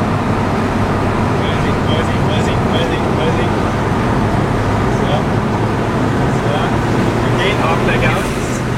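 A Ford Fiesta ST engine hums and rises gently as the driver gives a little gas, heard from inside the car over steady road noise, with occasional faint chatter.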